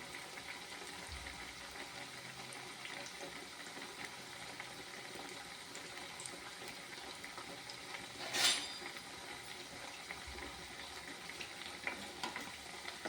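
Rava vada frying in hot oil makes a steady, close crackling sizzle that holds throughout, with one brief sharp pop partway through.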